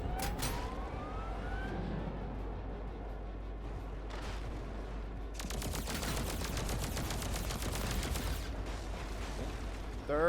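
Rapid bursts of gunfire from a rifle aimed at a multi-headed boss in the video game Polaris. Dense repeated shots ring out over a constant rumbling game background, with a rising whine early on.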